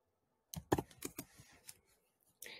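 Short burst of keyboard typing, a quick run of close, crisp key clicks followed by a pause and a final couple of taps, quiet overall.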